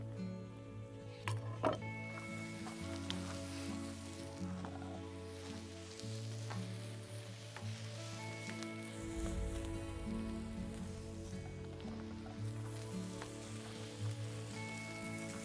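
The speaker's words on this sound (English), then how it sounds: "I'm putting these straight onto the seasoned plate, which has been seasoned with a very light film of oil" Courgettes sizzle on a seasoned Vulcanus grill plate that carries only a light film of oil, giving a steady, moderately loud crackling hiss with a low hum beneath it and no talking.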